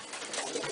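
A hen pigeon sitting on her nest in a nest box at midday gives a soft, close coo, low and brief over a faint background.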